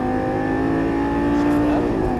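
Lamborghini Gallardo LP550-2 accelerating out of a corner, a loud, sustained engine tone climbing steadily in pitch as the revs build, heard close and alone.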